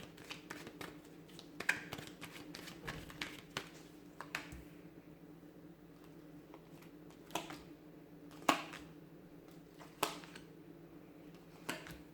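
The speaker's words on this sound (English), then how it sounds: "I'm going to give the cards a shuffle" Tarot cards riffle and snap in short bursts, with quiet pauses between shuffles, close up and fairly soft.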